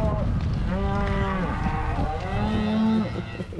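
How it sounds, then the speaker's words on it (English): Cattle moo repeatedly during a cow drive in Montana, several loud, drawn-out calls overlapping close by against steady outdoor noise. "Just got caught in a cow drive."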